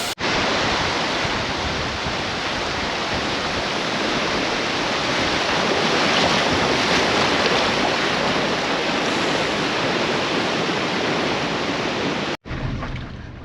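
A mountain stream near Chandartal Lake in Himachal, at roughly 13,000 feet, rushes in a loud, continuous roar of broadband water noise close by, cutting off abruptly just before the end.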